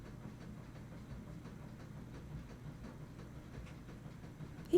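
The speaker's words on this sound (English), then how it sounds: "Was there a train noise? I'm doing laundry." A washing machine runs a laundry load indoors, giving a faint, steady low rumble with a soft rhythmic churn. It continues unbroken and alone, with no talking.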